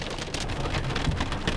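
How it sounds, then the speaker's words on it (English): Steady, dense rain falls outdoors near a Best Buy store, an even hiss of drops hitting surfaces with no talking. "it's raining outside right now"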